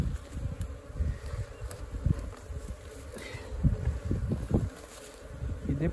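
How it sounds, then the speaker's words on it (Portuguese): Apis honeybees swarming out of a termite mound in an open pasture, a dense low buzzing hum that rises and falls continuously at close range, with wind and scattered handling noises around it. "Esses abelhas subindo tudo pra essa caixa aí."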